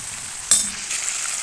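Onions sizzling in hot oil in a pan while cooking fish biryani, with a sudden sharp burst of sizzle as they go in, then a steady bright frying hiss continuing close by with no talk.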